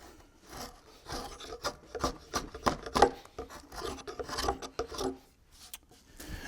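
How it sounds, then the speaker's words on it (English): Draw knife shaving along the top edge of a live edge wood slab for an end table, a series of short raspy scraping strokes of varying strength, close and steady with no talk. "I'm going to soften both this cut and this cut along the top with the draw knife"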